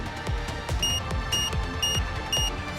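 Steady electronic beeping from an excavation bomb alarm in Nikke: Goddess of Victory repeats at regular intervals, bright and piercing, layered over pulsing low thumps of background music.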